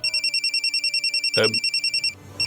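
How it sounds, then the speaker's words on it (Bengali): A telephone rings in a fast, regular electronic pulse that stops near the end and briefly resumes, with a short voice cutting in midway. "কার আবার ফোন এলো?"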